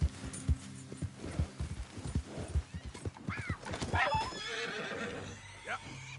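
A horse in Red Dead Redemption 2 snorts and then lets out a loud, rising whinny, with a quick run of hoofbeats clip-clopping at the start before the neigh; no voices.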